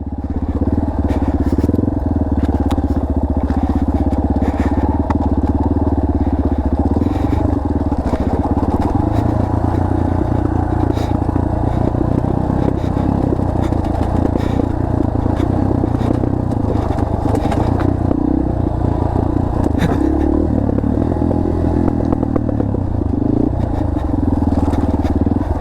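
A dirt bike ridden downhill on the Rowher Flats lookout 4x4 OHV trail, its engine a loud close continuous drone with shifting revs, accompanied throughout by rattling, clattering and scraping from the rough ground.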